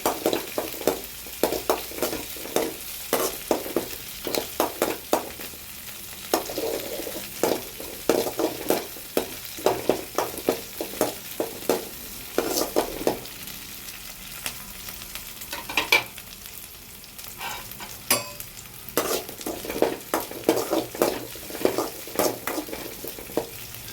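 Onions frying in a pan for an idli egg fry, a continuous sizzle broken by frequent rhythmic scraping strokes of a spatula stirring, loud and close with no voices.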